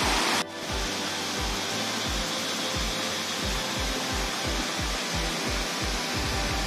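A waterfall on Koh Samui, Thailand, roars with steady, dense rushing water, with a faint rhythmic thumping underneath.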